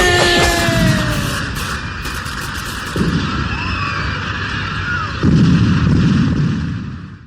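Firecrackers, including rockets, go off during Deepavali celebrations in a loud, continuous barrage of crackling bursts and booms, with whistling shrieks rising over the din.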